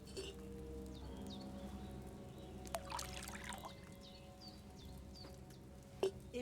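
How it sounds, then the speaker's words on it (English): Wine poured into a cauldron in the video game Kingdom Come: Deliverance II, a short liquid pour around the middle of the clip over steady game ambience with faint bird calls and a brief click near the end. "what did you pour in there? Wine, of course."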